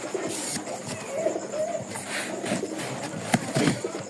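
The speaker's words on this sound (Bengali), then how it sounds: "মোট দশ জোড়া কবুতর নিচে বিশ পিস" Pigeons cooing nearby, several soft low coos against faint background noise and a brief click.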